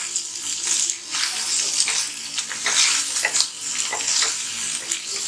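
Paneer frying in a pan for a simple home-cooked paneer fry, giving a steady, fairly loud hiss and crackle that runs continuously with small bursts of spatter and no talking.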